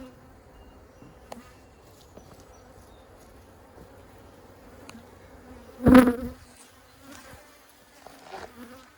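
Honeybees buzz softly around an open hive frame of a colony building up after a split, a faint continuous hum with a brief louder bump midway.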